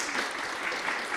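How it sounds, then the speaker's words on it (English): An audience at a climate accelerator demo day claps in a dense, steady burst of applause, fairly close and filling the whole short moment. "Let's give a big round of applause for the girls."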